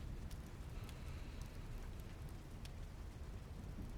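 Soft, steady rain patters on a surface nearby, a faint continuous hiss with a few scattered drops, with no voices.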